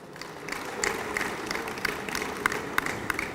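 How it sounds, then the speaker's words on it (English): Audience at a reinsurance awards ceremony applauding, a dense patter of claps with several sharper nearby hand claps standing out, sustained at moderate level throughout. "Give him a round of applause."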